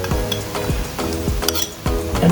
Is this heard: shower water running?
no